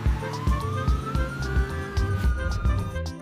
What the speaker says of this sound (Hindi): बच्चों ये देखो पुलिस कार।